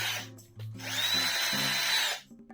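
An electric screwdriver driving an M3 screw into a 3D printed grip handle, a short close whirring burst rising and holding for about a second, preceded by brief stuttering pulses.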